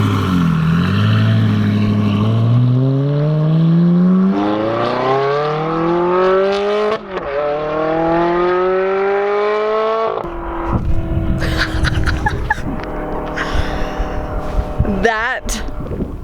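Car fitted with a new exhaust accelerates along a road in rising, revving sweeps that fall away as it passes, then fades into roadside noise while people talk nearby.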